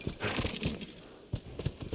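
Horse hooves clip-clop in The Last of Us Part II, a brisk, uneven run of close, muffled thuds on soft ground with a faint rustle between steps.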